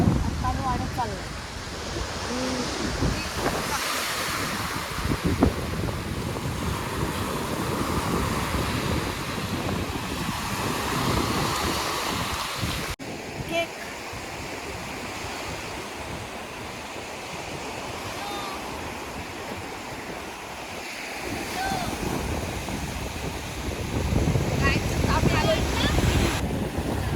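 Sea waves surge and wash ashore at Revdanda beach, steady and loud, with gusts of wind buffeting the microphone throughout; voices are faintly present.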